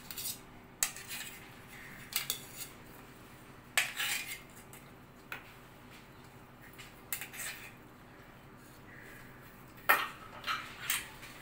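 Idlis being lifted out of a metal idli stand bring scattered metallic clinks and scrapes, a dozen or so sharp taps at irregular intervals over a quiet kitchen background.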